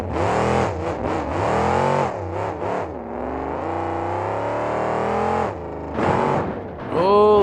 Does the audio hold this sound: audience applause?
no